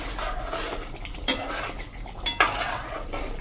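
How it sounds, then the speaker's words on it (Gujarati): A spoon scrapes and stirs through a pot of tempered bottle gourd curry, with two sharp metallic clinks against the rim over a low background sizzle. "આ રીતે જો આપણે વઘાર નાખી હવે એને મિક્સ કરી લેશું."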